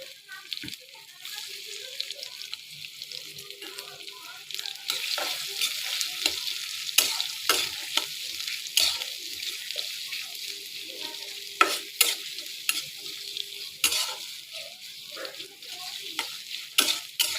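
Chopped onion and green chili fry in hot oil for chicken mince, a steady sizzle with repeated scraping and clacking as a spoon stirs them, near and fairly loud, with no voice over it.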